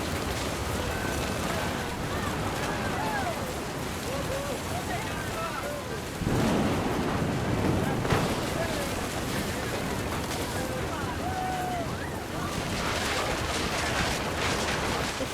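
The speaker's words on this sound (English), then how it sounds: "The thunder sounded much too close and full of angry power." Thunder and heavy rain in What Remains of Edith Finch, a dense wash of pouring rain with rolling rumbles that swell mid-clip, steady and enveloping throughout.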